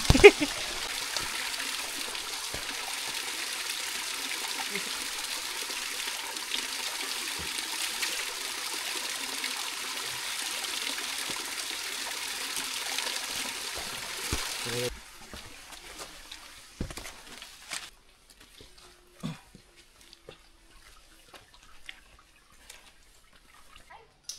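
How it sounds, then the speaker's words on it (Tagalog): Water trickles and splashes steadily at a mountain water source beside a hiking trail, running for about fifteen seconds before stopping and leaving faint scattered knocks and movement sounds. "Yung water source dito."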